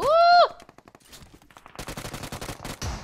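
Gunfire in the mobile battle royale game PUBG Mobile comes as a rapid run of sharp, clipped shots in quick bursts after a brief tonal game sound, loud and close.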